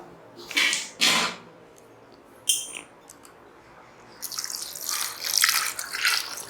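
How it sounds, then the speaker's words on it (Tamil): Water splashes and pours in short bursts, then a longer steady gush of water filling a cooking pot for sambar, close by with no talking. "தேவையான அளவு தண்ணி ஊற்றிக்கோங்க"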